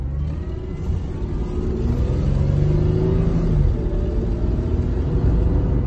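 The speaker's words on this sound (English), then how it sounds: "car sounds like it's running pretty good. I mean, aside from my massive exhaust leak" A 2004 Ford Mustang 3.9L V6 engine with a large exhaust leak runs nearby with a deep, rough rumble, rising slightly as it revs, steady and loud throughout.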